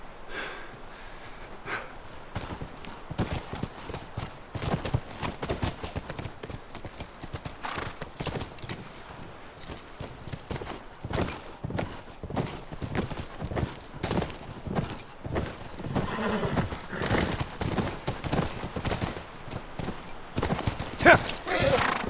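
Horse hooves clip-clop in a steady rhythmic gait on hard ground, with occasional snorts and voices talking over them, in the video game The Last of Us Remastered.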